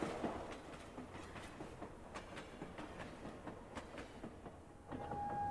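A train in the Station 5 video game rolls along with a steady rhythmic clickety-clack of wheels over rail joints, moderately quiet and continuous, ending with a faint high squeal or whistle tone.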